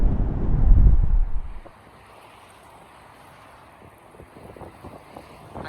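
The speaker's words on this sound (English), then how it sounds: "So headphone warning, there is a bit of wind." Wind gusting outdoors across an uncovered microphone, a loud low buffeting rumble for the first second and a half that then drops to a faint, steady breeze.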